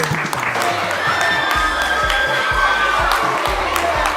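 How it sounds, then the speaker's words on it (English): An audience at a teen cooking competition claps and cheers for a pair of contestants, a steady wash of applause with shouts and whoops from young voices rising over it throughout. "Let's have some round of applause for Jack and Jill."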